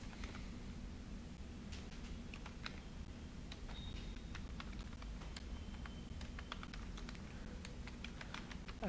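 Quiet, steady clicking of a computer keyboard as text is entered into a website admin panel, irregular light keystrokes over a low background hum.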